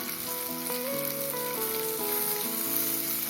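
Green chilies and salt sautéing in a pan of oil for a village-style dry fish curry, giving a steady close sizzle and crackle with no talk, while melodic tones run faintly underneath.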